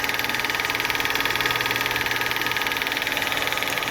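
A lathe cuts metal while machining a Hemi adapter: a steady mechanical drone with a fast, even pulsing throb, continuous and fairly loud, with no voices.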